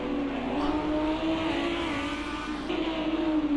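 A Lamborghini race car engine roars in a racing video game sprint race at Long Beach, a sustained high-pitched drone that shifts pitch briefly as it drops and climbs again.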